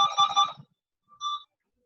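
A phone ringtone sounds during an online Zoom meeting: a short bright tonal burst, a brief pause, then a second shorter burst, fairly loud and close.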